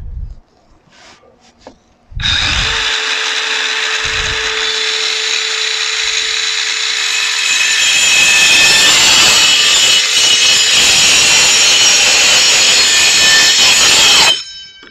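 A power saw cuts through a PVC gutter for a mini vertical garden, starting abruptly and roaring loud and close for about twelve seconds at a steady, grinding pitch before stopping suddenly.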